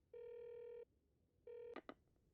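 A telephone rings in an anime, two long steady electronic tones separated by a pause, followed by a couple of short clicks as the receiver is picked up, fairly quiet and with no one talking.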